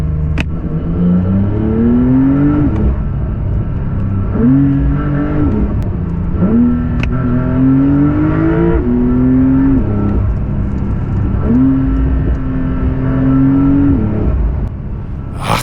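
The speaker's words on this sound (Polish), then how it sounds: "I niesamowicie pięknie brzmi w kabinie to auto." Porsche 911 Dakar engine revving as heard inside the cabin, with several strong rising pulls and brief dips between them, loud and close with no talking.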